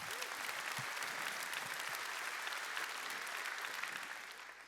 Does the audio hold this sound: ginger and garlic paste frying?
no